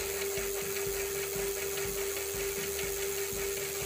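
A steady electric hum from an e-bike hub motor spinning under throttle during a bench test, with a constant tone and faint rhythmic mechanical pulsing throughout.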